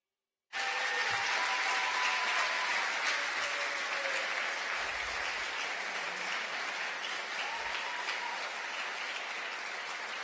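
An audience at a guesthouse inauguration and ribbon cutting breaks into sustained applause that starts abruptly, holds a dense steady clapping roar, then eases slightly over about ten seconds, with no voices heard.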